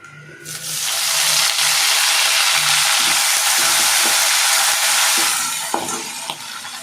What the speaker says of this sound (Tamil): இப்போ இதை நல்லா பொன்னிறமாக வறுத்துக்கணும்.